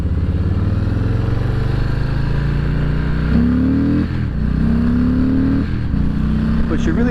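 A 2019 Harley-Davidson Low Rider with a 107 cubic inch V-twin pulls hard through the low gears, its loud, steady engine drone rising in pitch with each gear before dropping at the shifts, heard up close throughout.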